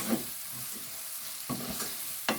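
Brown chickpeas fry in a pan with a soft, steady sizzle, punctuated by a few quiet stirring scrapes and a sharper clink near the end, close and without voices.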